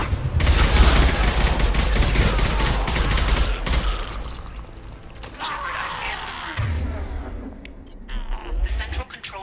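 Rapid gunfire in Mass Effect 2, loud sustained bursts of automatic shots for several seconds, then scattered shots and impacts, with a voice speaking over the action.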